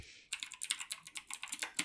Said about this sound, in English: mechanical keyboard noises.